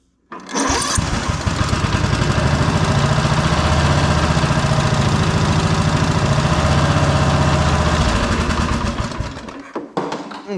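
A Cub Cadet RZT17 zero-turn mower engine with a freshly installed carburetor cranks and fires, then runs at a loud, steady, close-up drone for about nine seconds before cutting off.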